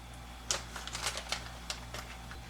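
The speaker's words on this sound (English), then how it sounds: "peel off this coating" Protective coating being peeled off a Flex-a-lite Xtreme 185 electric fan part during an install on a 1986 Mustang GT, making faint, irregular crackling ticks and soft rips, close by and without talk.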